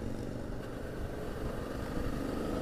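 A motorcycle engine drones steadily ahead on the road, a low, faint and continuous rumble heard from behind the bike without voices.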